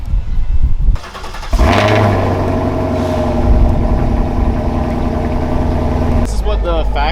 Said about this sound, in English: This is the official last remote start with the stock exhaust.